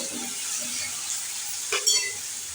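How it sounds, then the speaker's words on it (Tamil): Onions and tomatoes sautéing in a pan for curry leaf kuzhambu, a steady soft sizzle with a brief stir or scrape near the end, no voices. "வெங்காயம் நல்லா வதங்கிடுச்சு. கூடவே நறுக்கி வச்ச 2 தக்காளி சேர்த்துக்கலாம்."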